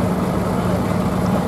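A Zetor 5511 tractor engine runs at a steady low diesel rumble, continuous and close, at a ploughing match on a farm, with no clear talk over it.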